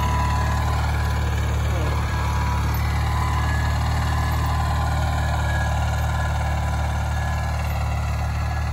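A garden tractor pulls a Brinly disc harrow across soil, its engine droning steadily and loud throughout with a constant low rumble, and a voice is faintly present under it.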